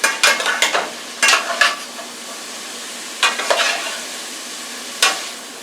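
Squash coated in cinnamon and sugar sizzles in a hot pan while being stirred, with short bursts of scraping and frying separated by quieter stretches of low sizzle.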